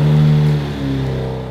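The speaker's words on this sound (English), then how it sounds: "Now just double check your connections and clamps and we'll start the engine." Cadillac CTS-V engine running right after a ZZP intake install, a loud, close, steady idle drone that sags slightly partway through, alone without talk.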